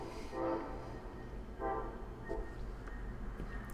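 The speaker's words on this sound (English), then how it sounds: "There goes a train." A passing train is heard faintly and at a distance through an open back door. A few short horn toots sound over a low, steady rumble.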